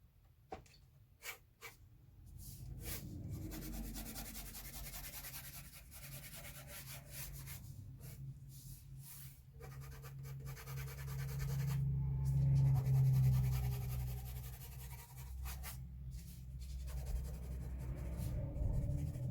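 A pencil rubs and scratches across paper while shading and tidying up a drawing of a dynamic hero figure, a soft continuous scribbling texture with short strokes, faint and close, with no talking.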